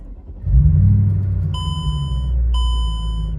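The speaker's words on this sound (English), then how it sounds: "Let's see if this thing will fire up and see if we can take it on a test drive." A Mercedes E55 AMG engine cranks and fires into a deep, rumbling idle up close, with two short dashboard warning chimes sounding about a second apart.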